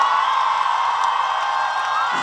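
A large festival crowd in Andong cheers and applauds steadily outdoors, a dense, continuous wash of clapping and shouts at even loudness with no break.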